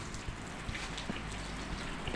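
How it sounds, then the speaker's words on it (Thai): Steady rain falls throughout, a dense even hiss with scattered closer drops tapping on surfaces, continuous and moderately loud with no voices. "พี่น้องฝนตก"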